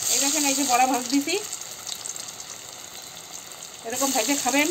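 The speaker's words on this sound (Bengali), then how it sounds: "এই দেখেন এই যে বড়া ভাজ দিছি" Maan kochu taro fritters sizzle in hot oil in a wok, a steady crackling hiss beneath a voice talking at the start and end, with a quieter stretch of bare frying in between.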